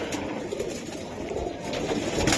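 Giribaz pigeons of the Palla line cooing softly in a loft, low murmuring coos rising and falling over a steady background hiss, with no clear talk.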